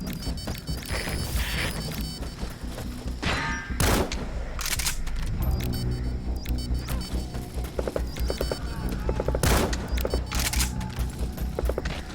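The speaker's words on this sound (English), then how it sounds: "Fire! Cease cover fire!" Cover gunfire in the video game Metal Gear Solid V: The Phantom Pain, dense sustained volleys of shots with a few sharper loud cracks standing out, continuous and close.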